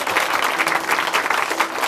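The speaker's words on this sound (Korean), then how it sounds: "다시 한번 박수 부탁드릴게요" An audience at a Korean church broadcast applauds warmly, a thick, continuous wash of clapping that holds at a steady moderate level for a couple of seconds.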